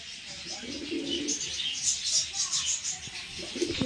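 Pigeons at a stall selling Kaldum and Laldum breeds coo softly nearby in low repeated murmurs, with light chirps and rustling over faint background noise.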